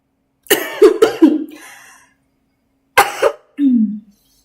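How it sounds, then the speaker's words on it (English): Several harsh coughs from a person nearby, two quick bursts at first trailing into a rasp, then another short pair, ending with a throat-clearing grunt. "My cough doesn't want to go away."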